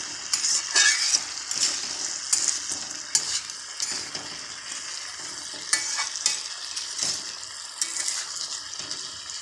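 Potatoes being stirred with salt in a frying pan for a potato and tomato curry: repeated scraping stirs and clatters over a steady close-up sizzle, continuing throughout.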